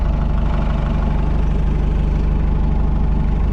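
An abandoned Hitachi excavator's diesel engine idles steadily and loudly up close, a deep even rumble with a low knocking pulse and no voices.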